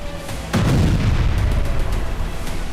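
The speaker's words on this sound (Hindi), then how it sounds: "उत्तरी इजराइल के रिहायशी इलाकों में धमाके हुए" A single deep, heavy boom erupts in a residential area of northern Israel, followed by a long rolling rumble and scattered crackling.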